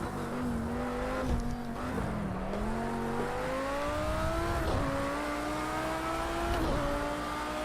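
A race car in the Project CARS 2 video game lapping steadily: a continuous engine note with rising and falling pitch through gear changes, loud and close throughout with no talking.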